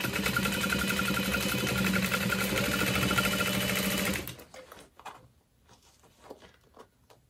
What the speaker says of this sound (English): So I'm sewing only against my stabilizer.